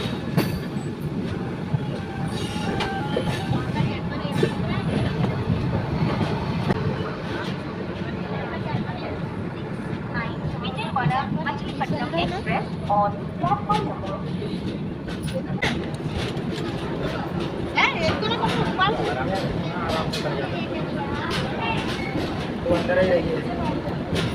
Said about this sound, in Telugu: సికింద్రాబాద్ గుంటూరు ఇంటర్సిటీ ఎక్స్ప్రెస్ విజయవాడ నుంచి డిపార్చర్ అవుతుంది